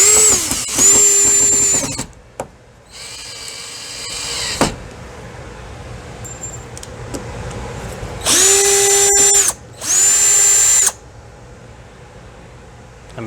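Power drill driving slightly longer screws into the existing hole of a home door deadbolt, several loud whirring bursts with pauses between, close by with no talk.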